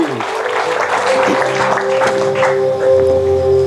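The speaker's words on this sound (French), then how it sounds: "Applaudissez-les pour les accueillir et les encourager" A church congregation applauds newly baptized members with a steady wash of clapping, while sustained keyboard tones ring underneath and voices mingle in.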